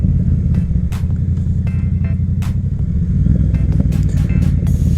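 A Yamaha FZ07 motorcycle cruises on a highway, its engine giving a loud, steady low rumble under heavy wind buffeting, with a few sharp gusts breaking through.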